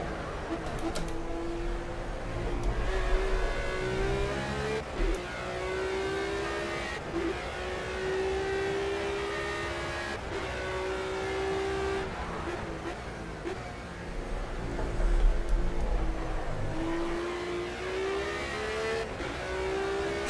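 A Radical SR3-RS race car at Imola in Project Cars revs through its gears, its engine note climbing and dropping repeatedly with sharp shift breaks over about twenty seconds, close and steady.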